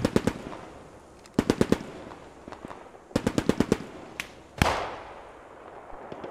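Submachine gun fire in the World War II shooter Squad 44, in a desert North Africa setting: several rapid, sharp bursts of close automatic shots, separated by short pauses, with a single heavier blast near the end.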